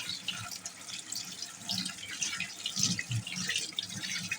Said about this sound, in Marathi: हे बघा, आता याच्यावर आपण थंड पाणी असं मारून घ्यायचं